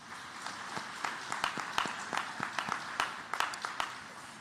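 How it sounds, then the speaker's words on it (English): An audience at a human rights celebration gala applauds, many hands clapping steadily at a moderate distance, with some sharper individual claps standing out and faint murmuring underneath. "So if we could give another round of applause"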